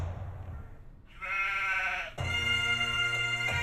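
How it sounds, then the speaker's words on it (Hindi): A sheep bleats out in rural Scotland, one long, loud, wavering call with a second bleat close behind, heard near and alone. "अगर कोई है आसपास तो वो है भेड़।"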